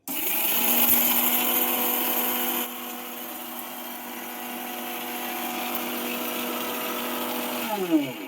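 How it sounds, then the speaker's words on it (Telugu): A mixer grinder whirs loudly while grinding dried chillies, mustard seeds, fenugreek and asafoetida into powder, its pitch dropping partway through before it winds down and stops near the end. "ఈ మిరపకాయలు ఆవాలు మెంతులు ఇంగువ ఈ మిక్సీ జార్లో వేసుకుని పౌడర్ చేసుకుని"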